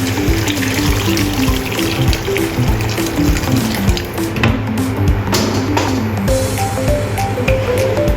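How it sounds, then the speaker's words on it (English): A bowl of water poured into a soup pot with chopped onion, a continuous splashing pour that runs throughout, close and fairly loud, with a tonal hum underneath. "Pour 1 bowl water."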